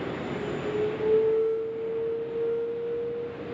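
Hainan Airlines Airbus A330-300 taxiing at night at Sydney Airport, a steady distant jet engine whine with a thin sustained tone over broadband rumble, continuous and fairly faint.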